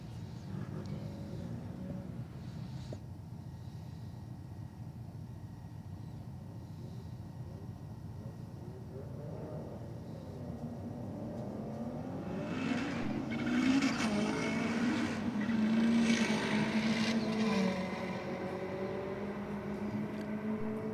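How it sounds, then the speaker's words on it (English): A Spec S Nissan Silvia race car engine revs up from a distance and grows louder as it passes close by, with a rough, uneven, cranky note over steady background rumble. "We've got a Spec S Nissan Silvia. Sounds fairly cranky."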